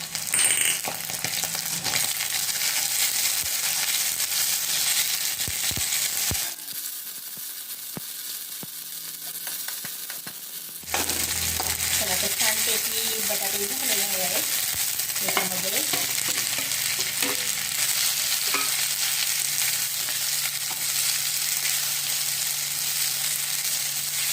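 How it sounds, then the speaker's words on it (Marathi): Sabudana khichdi with peanuts and green chillies stir-fried in a pan, a constant loud sizzle with scraping and stirring clatter, briefly quieter in the middle before the frying resumes, no talking. "आता रंग पालटेपर्यंत मी ही खिचडी परतून घेणार आहे"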